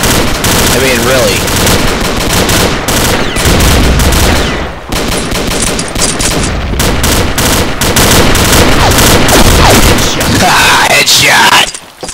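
Rapid automatic gunfire and heavy bursts from a shooting video game, loud and nearly continuous across the whole stretch, with excited voices talking over the shots.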